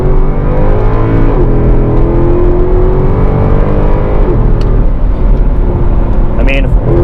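A Mercedes C63 AMG engine pulls hard under acceleration, a loud, steady drone that climbs in pitch through two gear changes, close and continuous with a brief high whine near the end.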